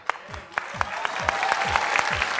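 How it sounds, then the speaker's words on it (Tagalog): Light, scattered clapping from a few people on a TV game show, a quick uneven patter of close claps that grows slightly fuller toward the end. "Ito, palakpak ko."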